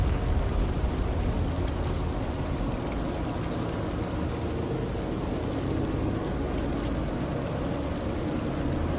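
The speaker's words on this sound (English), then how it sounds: "Whoa, flash flood. It's raining upwards." Steady rain in the video game Death Stranding, a dense, even wash of falling water with a low rumbling undertone, continuous and moderately loud throughout.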